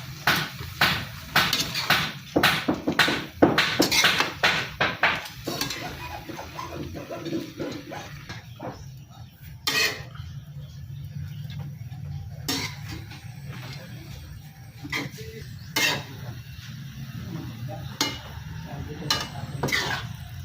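Tuna flakes and bean sprouts are stirred in a pan, making irregular clattering utensil knocks, dense at first and then sparser, with a faint background sizzle.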